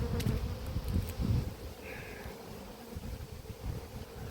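Honeybees hum steadily around an apiary hive where fresh pollen is coming in, a close, continuous low buzz with a few brief higher whines as individual bees pass.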